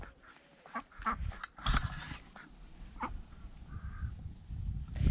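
Backyard poultry, a rooster and a duck, calling in a few short bursts of quacks and squawks outdoors, mid-distance over steady ambient noise, with no talking.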